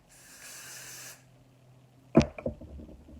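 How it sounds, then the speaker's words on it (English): A steady aerosol spray hisses for about a second, followed by a pause and then a few sharp handling clicks and knocks. "We're going to spray that."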